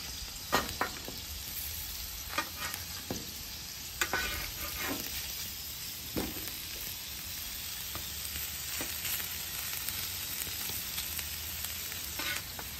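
Potato wedges sizzle steadily on a hot griddle, a dense, continuous frying hiss broken by scattered scrapes and taps as the wedges are stirred and flipped.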